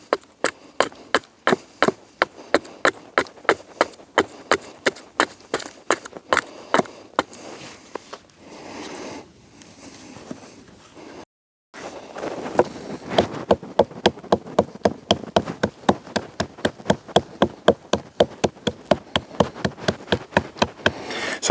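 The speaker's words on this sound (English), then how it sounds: "I was bringing my axe down on the anvil. So that makes nice, consistent, even chops or cutting stops." A Beavercraft AX1 carving axe chops a wood piece against an anvil in steady, evenly spaced strikes, loud and close, with a brief pause midway before the rhythmic chopping resumes faster.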